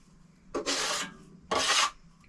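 Two broad scraping sweeps of a steel trowel gathering plaster off a hawk, each rasping stroke about half a second long, close and fairly loud, with a brief pause between them.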